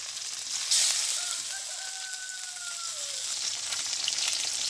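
Fish frying in a pan in a village kitchen gives a steady, close hiss and sizzle with a louder crackle near the start, while a rooster crows faintly in the background.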